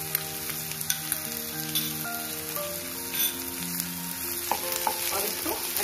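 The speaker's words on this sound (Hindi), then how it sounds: "अब इसमें कटे हुए टमाटर डाल लेते हैं सारे।" Chopped tomatoes drop into a pan of garlic and ginger for lauki bharta and fry with a dense, close, crackling sizzle, steady throughout, with occasional spoon knocks and a tonal hum beneath.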